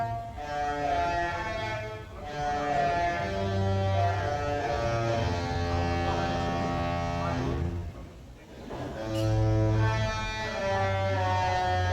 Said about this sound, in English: enjoyed the views with some unexpected honking music as we were sailing away from Castaway Cay